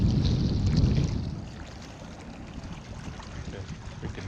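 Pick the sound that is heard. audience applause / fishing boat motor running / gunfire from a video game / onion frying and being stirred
fishing boat motor running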